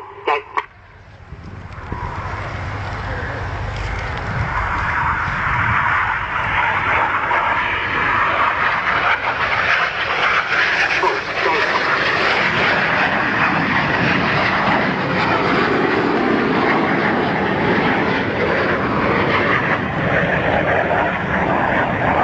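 Red Arrows jet aircraft of the Royal Air Force display team fly low over the runway at the RIAT 2012 air show, a loud sustained roaring jet engine sound that builds quickly and holds steady.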